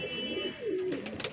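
Highflyer pigeons coo in low, rounded calls, several soft overlapping coos close by against a steady background murmur.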